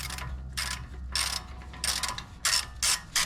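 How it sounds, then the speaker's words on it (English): A ratchet with a socket works loose an outer tie rod nut on a car, giving close, crisp clicking bursts in a quick irregular series, each pull a short run of pawl clicks. "you can grab your extension bar or a ratchet."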